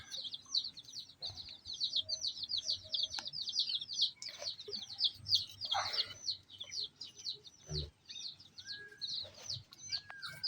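Native country chicken chicks peep in a fast, continuous string of high chirps inside a cage, heard close and fairly quiet, with a few soft knocks and bumps under them.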